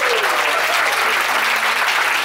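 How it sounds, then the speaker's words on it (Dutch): Loud, dense applause from a crowd at a sports tournament, steady clapping that runs without a break and nearly drowns out any talk. "Hartelijk applaus voor Maria."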